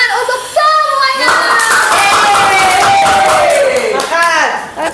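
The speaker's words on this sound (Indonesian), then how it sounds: "Beri tepuk tangan untuk semuanya." Classroom of children clapping hands together, bright and close, with shouts and cheering voices over the clapping throughout a short burst.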